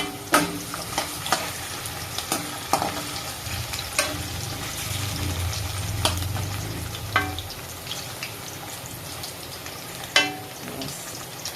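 Chicken sizzles and fries steadily in a pan, with occasional sharp clicks and scrapes of utensils stirring.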